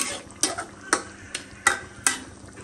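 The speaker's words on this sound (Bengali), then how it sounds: "তো এই যে এখন এটাকে কিছু সময় ভালো করে কষে নেব" Potato curry stirred in a pan, a spoon scraping in five distinct strokes at a steady rhythm over a soft sizzle, close and clear with no talk.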